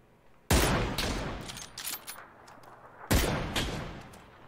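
Two loud, isolated gunshots in the PUBG battle royale, each a sharp crack with a ringing tail, about two and a half seconds apart, with no talking.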